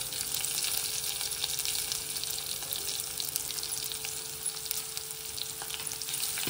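Onion sizzling in hot oil in a pan for bachelor-style chicken biryani, a steady dense frying hiss with faint stirring, close and continuous with no talk.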